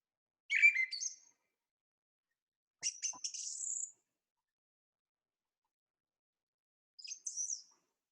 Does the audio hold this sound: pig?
no